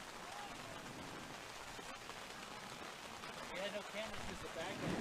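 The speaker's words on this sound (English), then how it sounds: "Rain starts to pick up once again." Rain falls steadily as a hiss over an outdoor women's college soccer match between South Florida and Houston, with faint crowd noise and a commentator talking over it.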